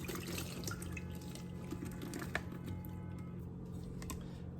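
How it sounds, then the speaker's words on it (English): Juice drains off fermented radish kimchi as a soft, steady trickle of liquid with light clicks and drips, faint and close. "So we're gonna drain it off."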